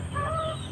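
Pet chickens cluck softly and close by in a brief burst of low, throaty calls, with a sharper sound right at the end.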